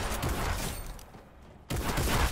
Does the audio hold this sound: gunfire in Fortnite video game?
yes